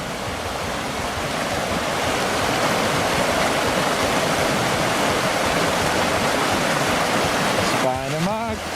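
A shallow river rushes in a steady, loud, continuous flow close by, and near the end a voice briefly rises over the water.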